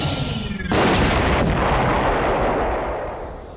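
A sudden, powerful cartoon spaceship explosion bursts out and then rumbles on, slowly fading over several seconds.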